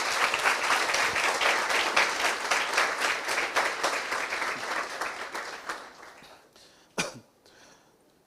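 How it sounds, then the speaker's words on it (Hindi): A church congregation at a sermon breaks into loud, sustained applause of many hands clapping, which fades out after about six seconds, followed by a lone cough. "यीशु के लिए एक जोरदार ताली बजाएंगे।"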